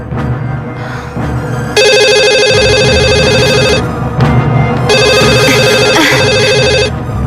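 A telephone rings loudly indoors in two long electronic bursts of trilling tones separated by a short pause, with no voices over it.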